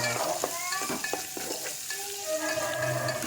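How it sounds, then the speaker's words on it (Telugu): Chillies and onions stirred as they fry in a pan, a loud steady sizzle broken by scraping stirring strokes, close up with no voices. "ఆనియన్స్ కూడా వేసుకుంటున్నా, ఉల్లిగడ్డలు కూడా వేసుకొని అన్నీ కలిపి ఒకసారి తిప్పుకోవాలి."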